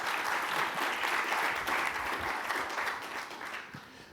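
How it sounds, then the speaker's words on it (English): An audience applauds guests at a panel event on natural gas in America, a dense, even round of clapping that tapers off toward the end. "Please give them a round of applause for joining us"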